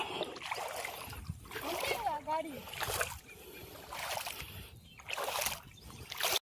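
Someone wades through river water while out fishing, with repeated splashes and sloshing in uneven surges, close and fairly faint, while someone talks between the splashes.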